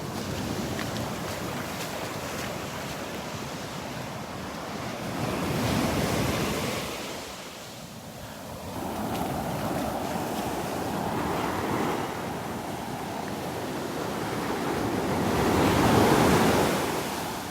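Surf breaks and rolls onto the Gulf beach at Naples, Florida, stirred up by stormy conditions, a steady loud wash with swelling crashes and wind buffeting the microphone, no voices.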